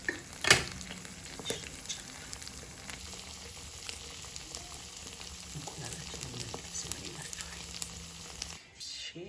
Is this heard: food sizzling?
yes